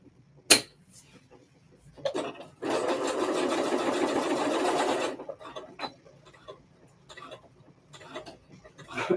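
A sewing machine running in reverse to backstitch, with one steady whirring burst of about two seconds, bracketed by sharp clicks and soft handling noises before and after.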